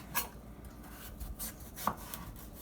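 A sharp knife cuts down through a peeled butternut squash on a board, making a few quiet, close chopping thuds and soft scraping rubs, with no talking.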